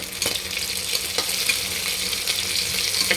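Curry leaves crackle and sizzle steadily in hot oil in a frying pan, a close, continuous spitting hiss with sharper pops scattered throughout, no voices.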